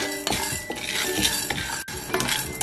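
A spoon stirs chana dal and urad dal dry-roasting in a metal pan, with a steady run of scraping clinks and light rattles of lentils against the pan, close up and with no talking.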